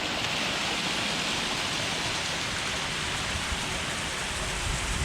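Small waterfall beside the Isar canal in Munich, a steady, dense rushing of falling water with no break, fairly close and even in level.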